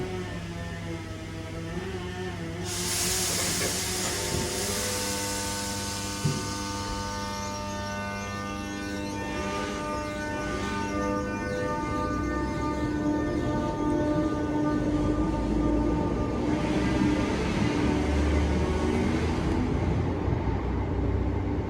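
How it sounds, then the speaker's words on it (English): A class 319 electric train departs toward Liverpool Lime Street at Rainhill, its steady hum and wheel rumble slowly building and swelling over about twenty seconds from mid-distance, with no voices. "Now departing is a 319 going to Liverpool Lime Street."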